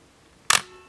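A single crisp click of a Kalimar KX7000 35mm film SLR shutter firing at 1/1000 second, close and sharp against near silence.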